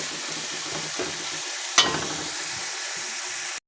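Bagoong, a fermented shrimp paste, sautés in a pan for pinakbet with a steady close sizzle and occasional stirring scrapes, plus one brief sharp clatter midway.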